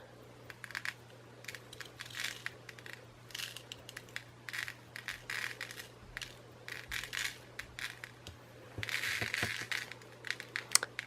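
Glass glitter is poured onto a craft flower over scratch paper, making a soft continuous sprinkling and crackling patter in uneven bursts, quiet and close against a steady low hum.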